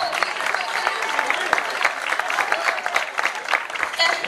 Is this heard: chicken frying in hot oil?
no